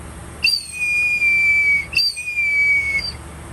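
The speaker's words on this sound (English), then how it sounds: "It's a good little whistle though." A handmade single-tube-chamber eagle whistle gives two long, piercing, slightly falling shrill tones, each held over a second with a sharp attack, loud and close.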